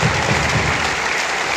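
Crowd applause at a handball event, a short burst of dense, steady clapping from a large audience in an indoor venue.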